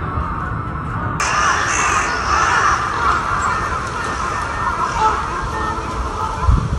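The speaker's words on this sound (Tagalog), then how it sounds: "Puro uwak oh. Daming uwak to." Many crows caw loudly and repeatedly in Japan, their harsh calls overlapping in a noisy flock that fills the air.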